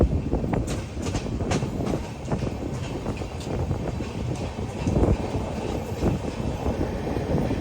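A train standing at Ballari Junction railway station rumbles steadily nearby, with scattered metallic clicks and clanks over a low, continuous drone.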